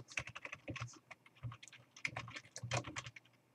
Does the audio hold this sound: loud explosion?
no